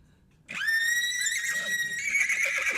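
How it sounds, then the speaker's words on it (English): A horse's whinny rings out loud and close, one long, high, wavering call lasting over two seconds after a short quiet start, with no talk over it. "He receives an answering neigh."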